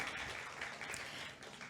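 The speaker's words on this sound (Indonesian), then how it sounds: "Tepuk tangan untuk Ibu Dian" Quiet, steady applause from an audience at an Indonesian women's empowerment event as a government official is welcomed, a soft continuous patter of many hands without clear individual claps.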